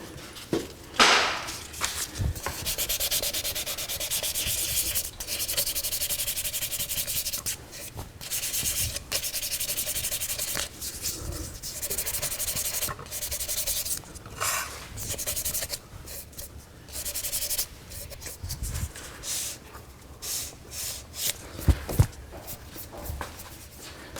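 A wooden necklace pendant spinning on a lathe is sanded with 400 grit paper, giving a continuous close-up abrasive hiss broken by frequent rubbing strokes and brief pauses.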